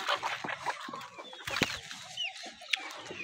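Golden Misri desi chickens cluck softly and intermittently nearby on a small farm, with scattered sharp calls and chirps over quiet background rustle.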